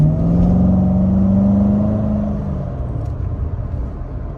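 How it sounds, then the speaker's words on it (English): A powerful car engine revs up with a deep, throaty roar that rises in pitch, then settles into a steady rumbling idle. "Can't beat the sound of a V8, regardless of what kind of V8 it is and which car it's in."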